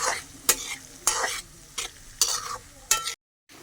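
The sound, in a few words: onions frying in a pan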